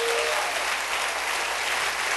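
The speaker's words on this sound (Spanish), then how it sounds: "Denle un aplauso al Rey bendito." A church congregation breaks into loud, continuous applause, a dense, even clapping that fills the whole moment without talk.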